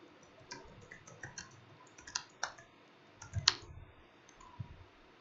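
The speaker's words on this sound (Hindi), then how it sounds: "राइट क्लिक करके इसको हम ऐड टू डिक्शनरी करते हैं।" Sharp computer mouse clicks, several light taps scattered irregularly with one louder click near the middle, close and quiet over faint room hiss, no talking.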